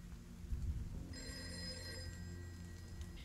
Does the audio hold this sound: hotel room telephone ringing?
yes